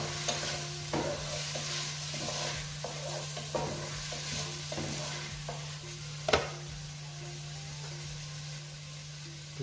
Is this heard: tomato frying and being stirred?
yes